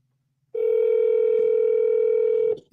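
A telephone dial tone hums steadily and loudly for about two seconds before cutting off, with no voices over it.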